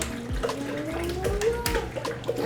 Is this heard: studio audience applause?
no